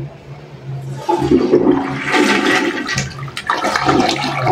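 A toilet flushes on a bowl with a newly installed water tank: after a quiet start, a loud rush of water surges and keeps running steadily to the end, with no voices.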